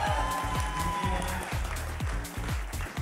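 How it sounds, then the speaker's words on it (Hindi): An audience bursts into loud, sustained clapping at an event, dense and continuous, over a pulsing, rhythmic low thumping throughout. "एक बार उनके लिए जोरदार क्लैपिंग"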